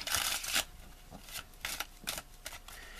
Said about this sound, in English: The dealer is going to take all 52 cards then and give them a good shuffle.